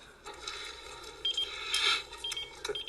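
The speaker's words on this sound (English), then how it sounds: "That's my beeper." A series of electronic beeps from a pager, chirping in short irregular bursts over a faint background hiss.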